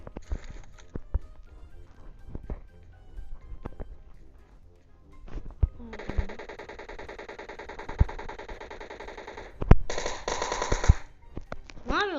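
Gunfire fills a video game firefight, with scattered single shots and then two long bursts of automatic fire at close range.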